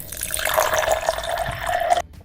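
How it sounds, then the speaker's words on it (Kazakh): Water pours steadily into a glass with a bright, rising gurgle that runs for about two seconds and then stops abruptly, close and fairly loud with no talking. "Маған кішкене су құйып беріңізші."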